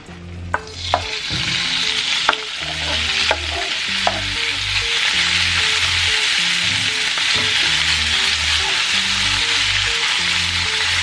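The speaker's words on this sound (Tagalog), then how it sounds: "So let's go back here on the side and let's put our steak." A steak sears in a hot pan with a steady, full sizzle that swells and holds, broken by a few sharp clicks and scrapes of utensils early on; no one speaks.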